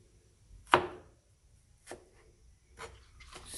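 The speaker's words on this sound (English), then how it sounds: "now I'm gonna be cutting my spring onion and green pepper" Knife cutting spring onion and green pepper on a board, a few sparse crisp cuts spaced out, with one sharp clear stroke followed by quieter ones, no talking.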